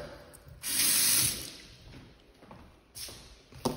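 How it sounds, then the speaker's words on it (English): Kitchen faucet blasting water at high pressure into a sink, a loud hissing gush that swells, eases off, then returns briefly near the end. "That water pressure is insane."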